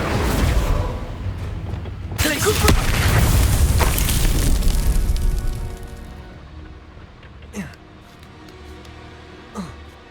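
A Bombarda blasting spell in Hogwarts Legacy bursts with a loud, rumbling boom that swells for several seconds and then fades, followed by two smaller sharp pops over faint patter.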